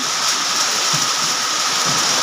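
A dense, steady roar of heavy rain falling, continuous and loud with no pauses.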